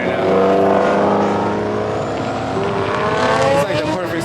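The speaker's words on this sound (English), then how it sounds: "They're having like a rev battle out there right now." Several cars revving loudly outside at a car meet in Gatlinburg, engines droning with rising pitch sweeps and tire-like squeal, continuous and close with no gaps, mixed with faint background voices.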